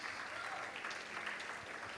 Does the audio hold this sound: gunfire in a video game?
no